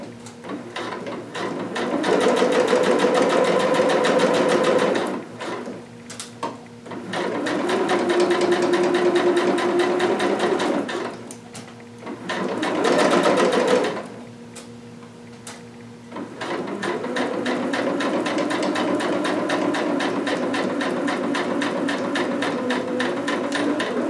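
A sewing machine stitches through two layers of cotton fabric in long steady runs of rapid needle clatter, broken by short pauses between bursts, close and loud.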